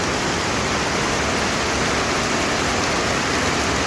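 Heavy rain and a rushing waterfall merge into a loud, dense, unbroken roar of water that stays steady throughout, with no voices.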